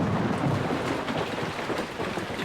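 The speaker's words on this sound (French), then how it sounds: "Voilà la pluie qui se met à tomber." Steady rain pours down in an animated children's farm cartoon, a dense, even hiss with low thundery rumble underneath, continuous and fairly loud with no voices.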